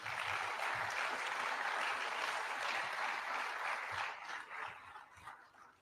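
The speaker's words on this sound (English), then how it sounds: "Another clap for him" Sustained audience applause in a large hall at a university innovation park launch in Nairobi, a dense steady wash of clapping that holds for several seconds before thinning and fading toward the end.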